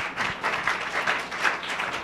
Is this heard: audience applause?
yes